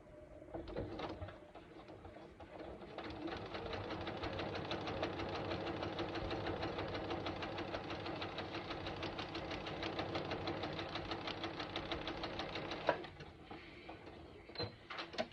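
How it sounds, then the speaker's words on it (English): A sewing machine stitches a fabric backpack seam with black and red thread, running in one long, steady, rapid mechanical chatter close up, then stopping near the end. "I just sewed it with the black and red thread because you won't see it."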